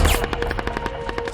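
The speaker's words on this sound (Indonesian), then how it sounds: "langsung melesatkan tembakan" Rapid bursts of gunfire from a film sniper scene, a fast loud rattling string of about a dozen shots over a low rumble, no voices.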